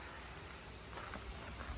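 Steady rain falls outdoors around a parked wide-body Dodge Charger, a dense even hiss of drops with a few louder patters, no voices.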